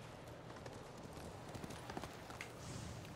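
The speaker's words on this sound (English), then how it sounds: "Horse, I need you now." A horse in Ghost of Tsushima approaches at a quick pace, hooves clip-clopping in a rapid irregular rhythm, fairly close and moderately loud over a low rumbling background, with no talk.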